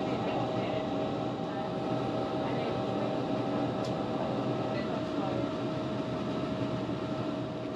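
Steady, loud rumble and hum of a train rolling into Portsmouth and Southsea Station, heard from on board, with constant wheel and motor noise throughout and no talk.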